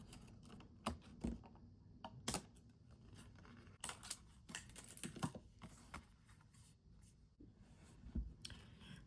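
Scissors snip through paper card for a shadow-art craft, quiet close clicks and cuts in an irregular rhythm with soft rustling between.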